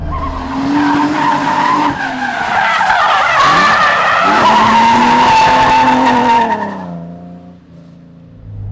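A rental drift car skids with loud, sustained tire squeal and a wavering, rising and falling screech over the engine, close by, before fading to a lower rumble at the end.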